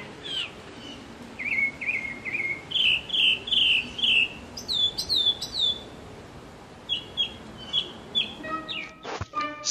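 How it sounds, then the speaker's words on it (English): A mockingbird sings a run of clear, repeated whistled phrases, each note echoed several times in quick series, close and loud against a soft background hiss, ending in a burst of sharp chirps. "Mockingbirds copy other birds' calls to attract a mate."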